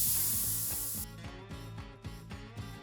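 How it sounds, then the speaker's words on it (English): A rivet nut installer tool from a kit ratchets repeatedly during a seat-back MOLLE panel install in a 2024 or later Toyota Tacoma, giving a steady run of close mechanical clicks with no talk. "we're going to use our rivet nut installer"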